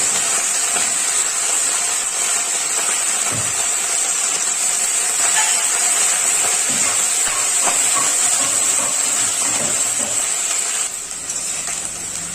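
Cauliflower added to browned potatoes frying in a pan, giving a steady loud sizzling hiss that runs throughout, easing slightly near the end.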